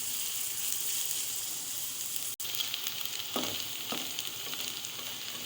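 Onions turn golden in hot oil over a medium-high flame for chicken gizzards, giving a constant bright close sizzle with a couple of soft stirring scrapes and a brief cut in the sound.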